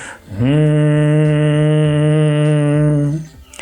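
A steady, low buzzing hum held by a human voice for about three seconds in Bhramari pranayama breathing, imitating a bumblebee, with soft breaths at either end.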